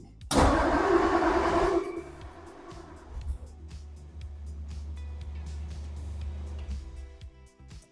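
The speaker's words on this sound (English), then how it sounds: "when I start the car up" A Ford Thunderbird car engine cranks and catches with a loud burst, then settles into a low, steady idle rumble.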